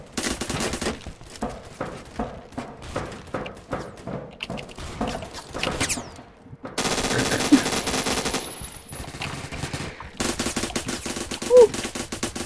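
Rapid automatic fire from an MK rifle in the Roblox shooter Phantom Forces, several bursts of crisp repeated shots separated by brief pauses, loud and close throughout.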